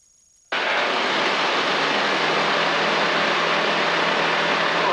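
A C42 light aircraft engine just after takeoff from Hilltop cuts in abruptly from near silence, then holds a loud, continuous, even drone and rush as heard from inside the cabin.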